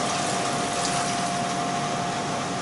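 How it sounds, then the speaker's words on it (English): Water pouring steadily into a soup pot of courgettes, vegetables and stock, a continuous close gushing wash with a faint steady tone running underneath. "Actually make sure that the stock covers the vegetables, so I'll put a little bit more water in."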